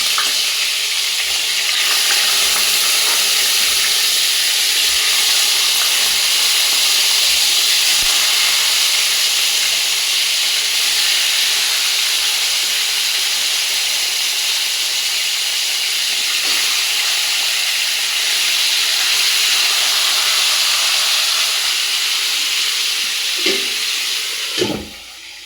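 Chicken pieces fry in hot oil in a pot for pulao, a loud, steady, hissing sizzle that continues unbroken, with a few utensil knocks near the end.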